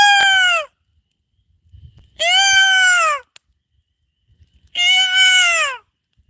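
A loon, the Minnesota bird, calls at night in the North American woods: three loud, clear, drawn-out tonal cries, each about a second long, separated by quiet gaps.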